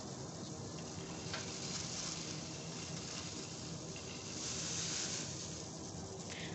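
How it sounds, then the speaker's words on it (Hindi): Water at a rolling boil in a cooking pot as moringa (sohanjna) pods and buds are added, a steady close bubbling hiss that holds evenly throughout with no talking. "पानी उबलने लग गया है। इसमें मैं अब ये डाल दूँगी।"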